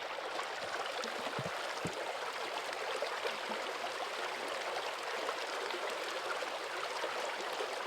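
Sewage water from homes pouring out of a pipe near Lago de Tota, a steady rushing and trickling flow at moderate level, continuous throughout with no voices.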